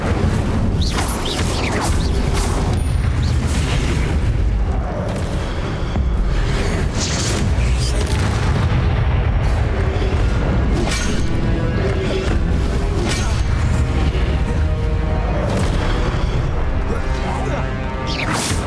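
Spell blasts from the Hogwarts Legacy video game on Switch, a steady barrage of booming, crashing impacts and magical bursts following one another with little pause, loud and dense throughout, with battle effects layered over them.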